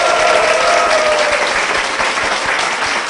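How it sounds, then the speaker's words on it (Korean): A church audience claps loudly and steadily in a dense, even burst of applause, with little talk over it. "우리 두 분께 다시 한번 큰 박수 부탁드리겠습니다"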